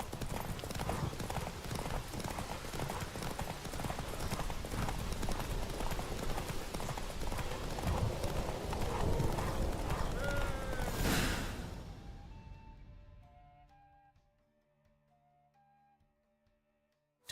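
Roach, the horse in The Witcher 3, gallops with loud, dense hoofbeats for about eleven seconds, then the hooves stop abruptly and give way to quiet, sparse tones.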